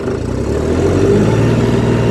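A John Deere 5310 Gear Pro tractor engine held at full throttle around 2100–2200 rpm, a loud, steady close-up diesel drone with no talking.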